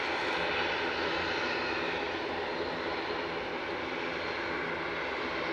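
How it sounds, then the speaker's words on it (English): A Loganair ATR 72 turboprop airliner at East Midlands Airport roars steadily and loudly, a broad continuous engine and propeller drone that holds level throughout with no talk over it. "addition to the fleet for Logan Air, that ATR. Is it a 72, is it?"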